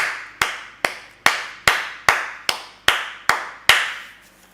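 Clapping as an offering of acclamation in a church service: nine sharp, evenly spaced claps in a steady beat, each ringing out with a long echo in a reverberant room.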